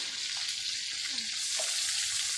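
Small shrimp fry in spiced masala with turmeric and chili in a pan, giving a steady, close sizzle with faint stirring through the whole stretch.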